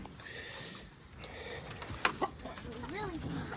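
Wet hens cluck inside a chicken coop after rain, a few short clucks and a rising call against steady background noise and faint voices.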